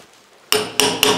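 A hammer strikes a chisel to knock out the drilled core of a socket hole in a house wall, three loud, sharp metallic blows in quick succession after a short quiet start.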